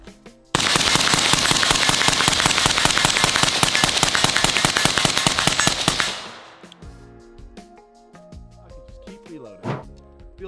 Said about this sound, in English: Nice and quiet suppressor, on target pretty much most of the time.